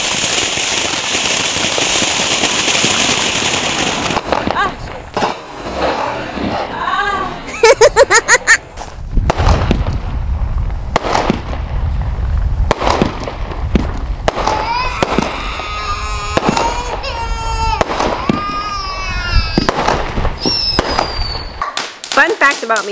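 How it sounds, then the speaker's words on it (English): New Year's Eve fireworks bang and crackle outdoors, with a loud burst of booms and popping reports in the middle and sustained noise through much of the stretch, mixed with voices, laughter and whistling tones. "I was terrified of fireworks when I was young, and Kai is literally taking after my footst"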